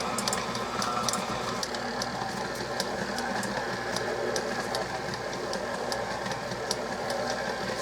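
Electric mixer beating cherry pie bar batter in a bowl, a steady continuous whir with faint rattling, running alone without talk throughout.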